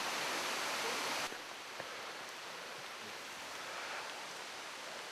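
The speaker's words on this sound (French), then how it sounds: "vous mettre à méditer emporté par le bruit de la cascade" The Ryumon waterfall in Yoshino gives a steady, broad hiss of falling water, even and continuous, heard at a moderate distance with no voices over it.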